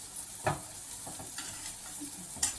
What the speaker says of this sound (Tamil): இப்போ இதை திருப்பி போட்டு இது வேகட்டும் இது இந்த அடுத்த சைடு ஒரு அஞ்சு நிமிஷம் வேகட்டும்